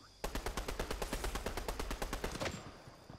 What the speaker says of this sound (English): Oh, I'm getting shot.